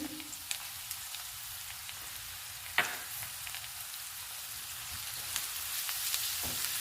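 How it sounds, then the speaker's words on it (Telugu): Onions fry in a pan with cumin, coriander powder and ginger-garlic paste for a gongura egg curry, a steady low sizzle broken by a few sharp stirring knocks and clicks. "ఆనియన్స్తో పాటు జీలకర్ర ధనియాల పొడి అల్లం వెల్లుల్లి పేస్టు అన్నీ వేయించుకోవాలి"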